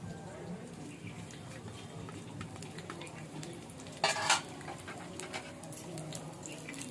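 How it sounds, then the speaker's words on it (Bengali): Chopped green chilli fries in a little oil for a potato filling, a low, steady sizzle close by with utensil scrapes and a brief louder clatter midway. "এবার এই তেলের মধ্যে দিয়ে দিচ্ছি কাঁচা লঙ্কা কুচি"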